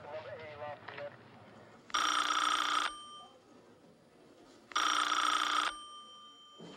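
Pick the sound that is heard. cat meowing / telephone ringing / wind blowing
telephone ringing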